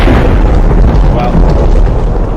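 Booming bursts from Minecraft firework rockets fill the scene with loud, continuous rumbling explosions and crackling pops, while a person's voice is faintly present underneath.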